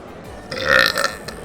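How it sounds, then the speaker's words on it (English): A single drawn-out deliberate human burp, loud and close, rising after a quiet moment and trailing off with a rough, gurgling texture. "I can burp on command, so..."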